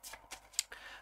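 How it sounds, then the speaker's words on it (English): Tarot cards being shuffled by hand: a few quick papery riffles and flicks, fairly faint, with short bursts spaced across a second and nothing else heard. "now I'm gonna shuffle the cards for the upcoming"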